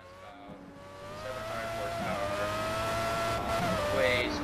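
A Formula A open-wheel race car in the racing game Project CARS, driven around the Nürburgring, screams through high revs and rises through the gears, loud and close, with a short squeal of tyres near the end.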